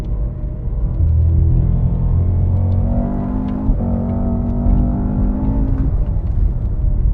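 A 2025 Cadillac CT5-V Blackwing V8 sedan with a manual gearbox runs on a race track, its engine a loud, steady low rumble with shifting pitch as the throttle rises and eases through a corner.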